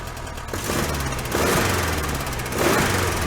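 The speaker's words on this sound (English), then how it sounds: "I think my exhaust leak is back here where the heater box goes to the head." A 1966 VW Fastback air-cooled engine with an exhaust leak near the heater box runs close up, loud and rough with a rapid popping chatter, rising in two short revs.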